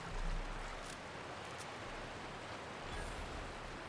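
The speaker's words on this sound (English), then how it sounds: "Check behind the waterfall." A waterfall in The Outer Worlds video game gives a steady, broadband rushing wash of falling water, with no voices over it.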